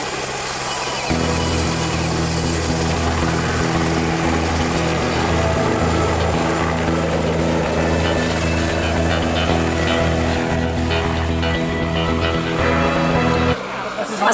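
A helicopter giving sightseeing rides at Ouistreham runs steadily and loudly close by, its rotor and engine drone holding constant throughout before cutting off abruptly at the end.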